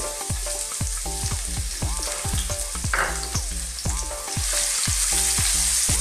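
Ginger, garlic and bay leaves frying in a pan for a Filipino sautéed bitter melon dish, with a strong steady sizzle and regular rhythmic spatula taps against the pan, close and alone.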